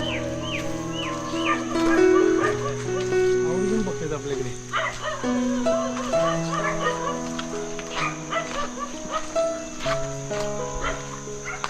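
Several village dogs bark and yip in an irregular stream, some near and some farther off, mixed with voices talking at the same time.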